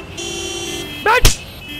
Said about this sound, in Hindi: हॉर्न सुनाई नहीं दिया रे हरामी